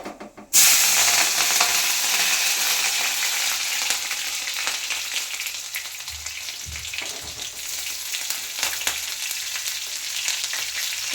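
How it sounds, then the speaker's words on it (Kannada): Curry leaves and green chillies hit hot oil for a tempering for a green gram dish, bursting into a loud, sudden sizzle that settles into steady crackling frying with occasional stirring. "ಹಸಿಮೆಣ್ಸಿನ್ಕಾಯಿ ಒಗ್ಗರಣೆಗೆ ಹಾಕಬೇಕಾಗುತ್ತೆ"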